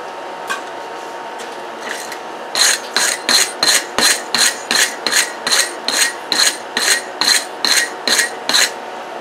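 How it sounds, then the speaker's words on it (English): A wire brush scrubs forge scale off hot steel during forge welding, a steady series of about seventeen sharp, rhythmic raspy strokes after a few scattered scrapes, close and loud with no talking. "Then I'm going to brush it off, and it'll be a nice clean surface."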